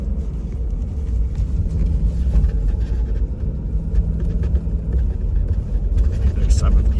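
Ford F350 Super Duty 7.3 Godzilla V8 pickup towing 12,000 lb on a gravel road, a steady low engine rumble and road noise heard from the cab while a person talks over it.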